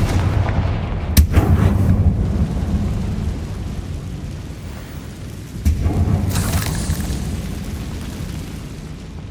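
Booming blasting-spell explosions in Hogwarts Legacy, two loud sharp detonations with rumbling tails several seconds apart over a low ambient drone.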